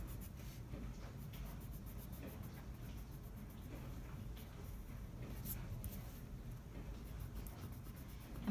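Marker coloring on a paper Easter card, a faint continuous scratchy rubbing of the tip against the card, quiet and close with no voice.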